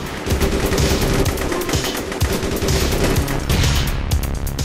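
Gunfire in the online video game APB fills the scene with dense, rapid automatic bursts and overlapping shots that stay loud and close throughout.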